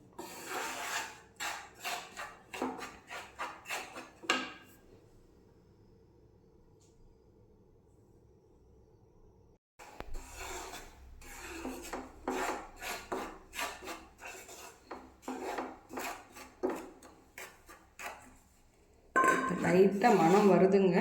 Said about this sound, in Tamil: இன்னும் கொஞ்சம் வறுக்கணும்.